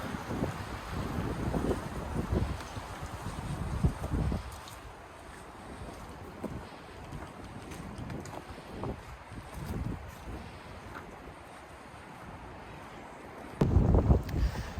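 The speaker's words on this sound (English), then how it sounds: "it's getting windy now" Gusty wind on a pine forest trail rumbles and thumps against the microphone, rising and falling in bursts, with a louder gust at the close.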